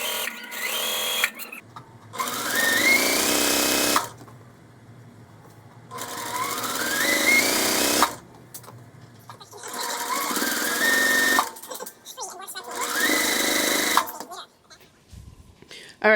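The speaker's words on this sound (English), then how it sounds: "for now I'm gonna go ahead and sew these blocks" A sewing machine stitching quilt blocks, running in four steady bursts of a few seconds each with quiet pauses between, close and clear.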